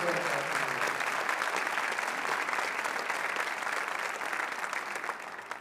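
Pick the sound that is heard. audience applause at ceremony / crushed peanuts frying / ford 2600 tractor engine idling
audience applause at ceremony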